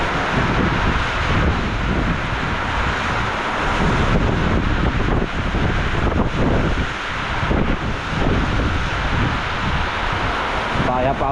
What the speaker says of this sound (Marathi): इथे पाऊस बघा किती असतो तो